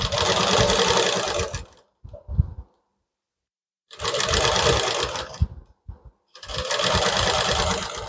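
Sewing machine stitching the neckline of a blouse, close and loud in three whirring bursts separated by short pauses and a few light handling clicks.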